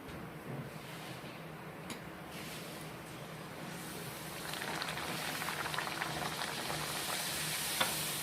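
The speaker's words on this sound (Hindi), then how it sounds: "तो हमारा तेल गर्म हो चुका है, अब इसे हम तल लेंगे।" Puris sizzle and bubble in hot oil in an Indian home kitchen, a continuous frying hiss that swells louder partway through, with no one talking.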